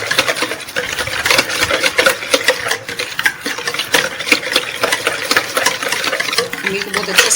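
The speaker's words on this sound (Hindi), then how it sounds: "खमीर को बहुत अच्छे से मिक्स करना है इसमें ताकि इसके जो दाने हैं वो नज़र ना आए।" Yeast being stirred into donut dough in a bowl, a steady busy scraping and rubbing texture with repeated spoon strokes, close and moderately loud throughout.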